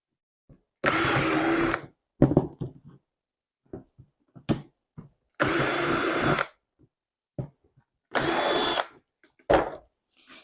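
A power drill bores holes into a plastic compost bin lid, three loud bursts of whining drilling about a second each, separated by quiet pauses with small knocks and handling clatter.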